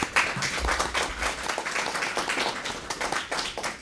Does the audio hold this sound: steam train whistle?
no